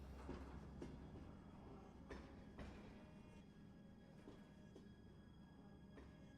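Train pulling away in the video game Shadow Hearts 2: Covenant, a low steady rumble with regular clickety-clack wheel beats at close intervals, faint and continuous throughout.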